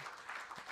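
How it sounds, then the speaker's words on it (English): Audience applause at a literature festival in Coimbatore, a short burst of scattered clapping from a crowd, fairly faint and distant. "And a round of applause for Vignesh"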